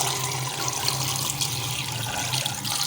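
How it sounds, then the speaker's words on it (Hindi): Water pours steadily into a cooking pot holding beef trotters for paya. A continuous, fairly loud rushing splash runs for about three seconds, with no voices. "अब हम इसमें पानी शामिल करेंगे।"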